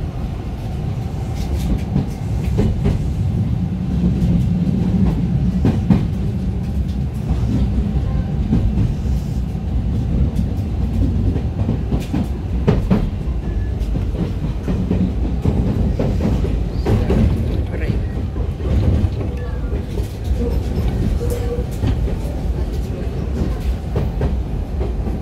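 A Kintetsu/Hanshin line train arrives at Namba in Osaka, heard from inside the car as a loud, steady rumble with rail clatter and low-pitched body noise that continues throughout, with a faint voice now and then.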